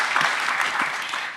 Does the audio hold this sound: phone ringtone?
no